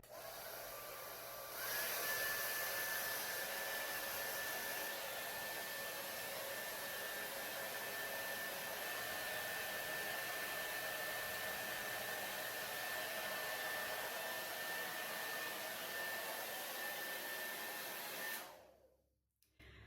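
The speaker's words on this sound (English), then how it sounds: "I'm gonna just dry it like quick and then straighten it." A handheld hair dryer blows on hair with a loud, steady whooshing whine, close by, running for about seventeen seconds before switching off and winding down.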